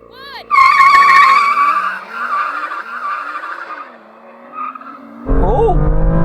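BMW M2 cars launching in a drag race, engines rising sharply through revs with tire chirps and gear shifts, loud and close, dropping away before another car roars in near the end, with excited commentary over the top.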